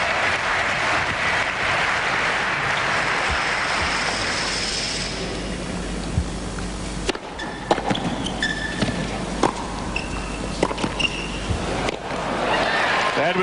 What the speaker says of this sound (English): Crowd drowning everything out. The unison clapping.